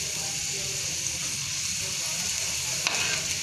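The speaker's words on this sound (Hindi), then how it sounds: "ये देखें ये मैं चिप्स फ्राई कर रही हूँ" Potato chips deep frying in hot oil give a loud, continuous, close-up sizzle and crackle, with a brief bubbling flare near the end.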